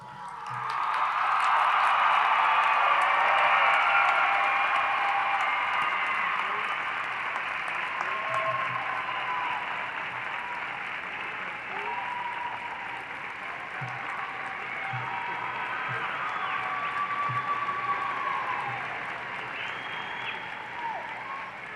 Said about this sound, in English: give the applause to your parents and all the support group